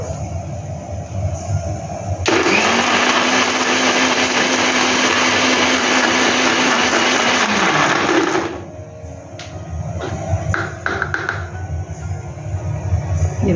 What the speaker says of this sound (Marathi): हे आता मिक्सरला फिरून घेते आहे, पण अजून थोडं बारीक व्हायला पाहिजे.